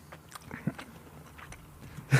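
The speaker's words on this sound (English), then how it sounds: "I shouldn't chew in the fucking mic." Someone chews food right against a microphone, with wet, sticky bites and faint crunches at irregular intervals and a sharper bite at the end, close and fairly quiet, with no talking.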